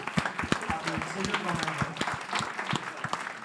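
Audience applause at a live talk event forms a dense patter of claps mixed with voices, fairly faint and steady throughout.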